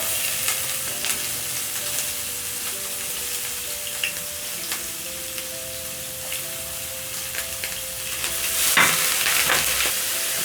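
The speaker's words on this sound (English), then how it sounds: "Then in the same pan, I'm going to add my onions. I'm using white onion." White onions sizzle steadily in a pan used before for sausage, with scraping stirring sounds close by and a louder burst of frying near the end.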